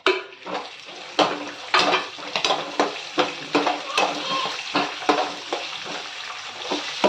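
Pav bhaji vegetables stirred in a pan with cumin and peas, a utensil scraping and clinking against the metal in repeated strokes over a steady frying sizzle, close and moderately loud.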